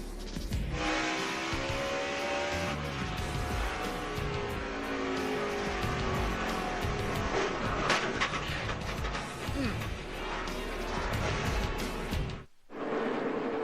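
Race trucks roar at Martinsville during the 2011 Kroger 200, a dense, continuous wall of engine noise from the pack on track, loud and sustained before cutting out briefly near the end.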